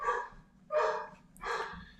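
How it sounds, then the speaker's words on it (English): A dog barks three times indoors, each a short, sharp, fairly loud bark spaced about half a second apart, with a quiet pause between them and no talking. "sorry, dogs are barking."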